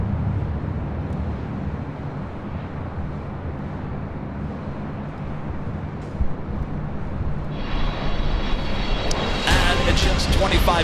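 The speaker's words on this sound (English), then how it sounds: "Our next arrival here on the north side is Delta Airlines Flight 2776 coming from Denver, Colorado in an A319." Delta Airlines Airbus A319 arriving from Denver at LAX, a low distant jet drone that swells into a louder, brighter engine roar with a high whine near the end, with talking over it.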